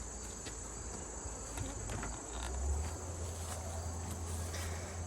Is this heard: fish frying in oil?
no